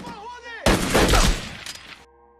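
Film gunfire exchange with machine-gun fire erupts suddenly in a dense, loud burst of rapid shots lasting over a second, following a voice and fading into a lingering tone.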